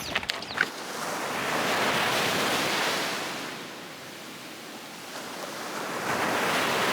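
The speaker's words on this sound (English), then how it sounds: "this beach, Playa Honcolito, just south of Loreto" Waves washing onto Playa Honcolito beach just south of Loreto, Baja California Sur, a continuous broad rushing surf that swells and eases, with a few faint clicks at the start.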